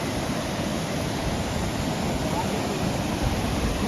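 Rushing water at the Sholayur hidden waterfall, running high, a dense, steady roar of churning water that fills the whole stretch evenly and close by, with no break or voice over it.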